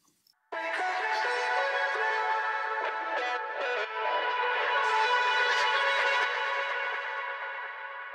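Processed vocal ear-candy snippets from an Ableton Live electronic track, a bright, airy wash of layered, echoing vocal fragments entering suddenly after a faint blip and sustaining fairly evenly, with no speech.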